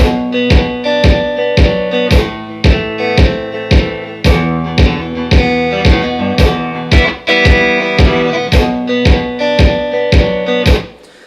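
Electric guitar plays a minor chord progression alone, each chord struck clearly and let ring, in a steady even rhythm, fairly loud and close.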